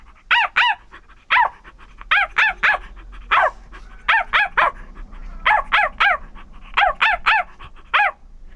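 A human voice imitates a drunk puppy barking, with about eighteen sharp, high yips in clusters of two or three, close and loud with no other sound.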